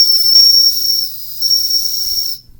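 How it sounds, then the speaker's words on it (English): Steam tractor whistle blowing under too much pressure, a steady loud shrill tone with hiss that dips briefly midway, then resumes before cutting off, with faint low mechanical thumps beneath. "the whistle actually started spewing hot water"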